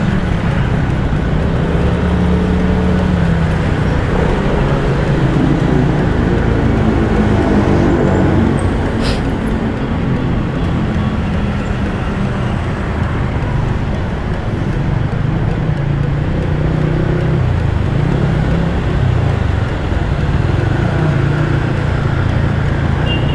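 Heavy highway traffic, with a steady dense roar of cars and motorcycles passing close by. No break in the noise for the whole stretch.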